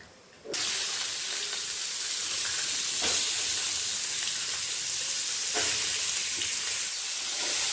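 Oil sizzles steadily as onions fry in a pan, a loud continuous hiss starting abruptly after a brief quiet moment, with occasional stirring bursts.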